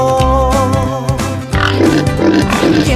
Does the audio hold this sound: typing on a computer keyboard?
no